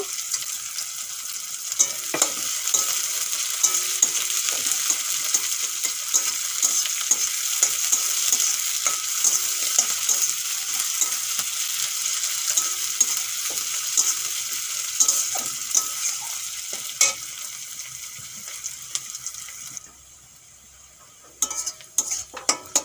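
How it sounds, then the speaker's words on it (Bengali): Onions and whole garam masala spices fry in hot oil in a pan, a steady close sizzle with scattered stirring scrapes, then a quieter stretch near the end with a few final clicks. "পেঁয়াজ ভালো করে ভেজে নিয়েছি"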